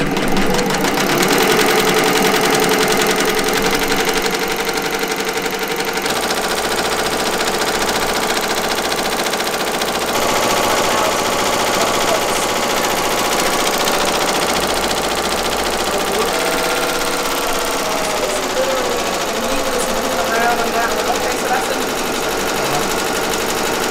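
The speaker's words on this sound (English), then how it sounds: "we're just switching the color, finishing the design off" A home embroidery machine stitches out a design with a steady, loud mechanical rattle running throughout, while a person talks over it.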